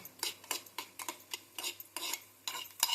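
Halim seeds roasting in ghee in a pan for kheer are stirred briskly, a rapid series of scraping, clinking strokes of a utensil against metal, close and alone over a faint sizzle.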